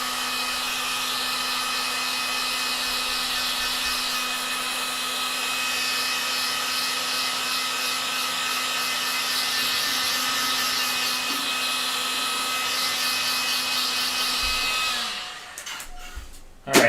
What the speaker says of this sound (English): So I'm just gonna take my heat gun and just dry that really quick